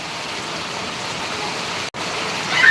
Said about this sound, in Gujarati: હવે અંદર રે જબરદસ્ત વરસાદ ચાલુ થયો